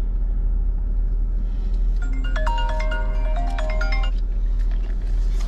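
A phone ringtone plays a brief melodic run of bright tones over a constant low engine-like rumble, then stops after about two seconds.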